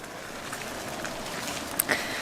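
Steady rain shower pouring down on an evening walk after leaving a zoo in Gdańsk, a continuous wash of falling drops at moderate level with a couple of brief sharper splashes near the end, no voices.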